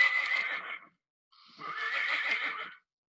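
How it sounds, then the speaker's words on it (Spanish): A horse neighs in two loud, close whinnies, the first shorter and the second longer and rising, separated by about half a second of silence, with no voices. "Caballo."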